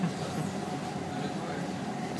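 Riding a tram through the city of Prague, with a steady, continuous rumble and hiss of the moving car heard from inside at constant loudness.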